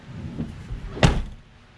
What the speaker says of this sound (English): Now we'll close the door.